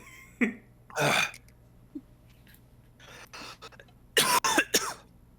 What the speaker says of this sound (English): get your coughs out that you need to get out